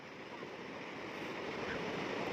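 Sea waves washing onto a beach where children play in the water, a continuous broad roar of surf heard close and steady.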